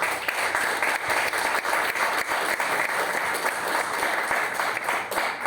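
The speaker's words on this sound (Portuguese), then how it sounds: "Vamos aplaudir o nome do Eterno Deus." Church congregation at a Saturday worship service clapping steadily and fairly loudly throughout, a dense, even wash of applause with no break.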